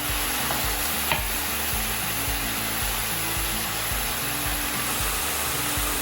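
Chicken curry with curry powder just added, frying and being stirred: a steady, loud, hissing sizzle runs throughout, with repeated scraping strokes of the stirring spoon and no talking.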